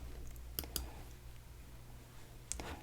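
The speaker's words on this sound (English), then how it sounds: "So I'm going to click on send." A computer mouse clicks a few times, sharp faint taps spaced apart, one pair close together early and another near the end, in a quiet room.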